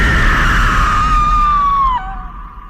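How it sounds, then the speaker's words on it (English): A woman screams in anguish in a 2004 horror film, a loud, sustained high wail that holds steady, then bends downward and breaks off near the end. "They all appear to her as spirits and Joy screams in anguish."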